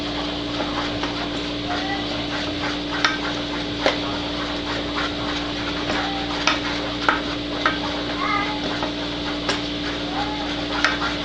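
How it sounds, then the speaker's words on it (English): Heath Bar toffee candy stirred fast in a hot pan above 275 degrees as it browns and nearly smokes: a steady close sizzling hiss with irregular spoon scrapes and taps against the pan, no talking. "Stirring like mad, trying not to let it stick."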